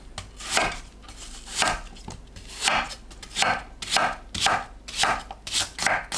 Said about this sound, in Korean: 배, 사과를 믹서에 갈기 좋은 크기로 대충 썰어주세요.